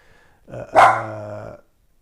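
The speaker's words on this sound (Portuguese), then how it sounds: "A Frida está latindo para alguma coisa na porta aí" A single close, loud dog bark with a growling edge, aimed at something at the door indoors, standing alone against near silence.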